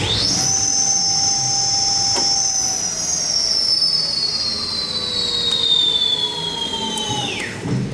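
A Rider 5000W electric 125 scooter accelerating hard gives a loud, steady high-pitched motor whine that slides slowly downward over several seconds, then cuts off sharply near the end, with no talking.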